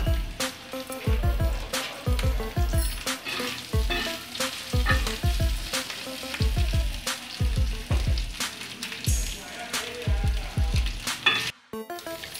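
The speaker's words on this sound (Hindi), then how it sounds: "अब इसमें घी शामिल करेंगे और इसमें जो चिकन था उबला हुआ वो ऐड करेंगे।" Boiled chicken sizzles and fries in ghee on a hot griddle in a village kitchen, a steady crackling hiss punctuated by rhythmic scraping strokes of a utensil stirring the pieces, close and alone without talk.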